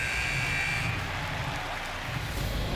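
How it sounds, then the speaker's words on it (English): Period-end buzzer in the NHL 25 hockey video game sounds as a short, steady tone of about a second over continuous crowd noise from the arena. "There's the buzzer. 2 periods down, 1 more to go."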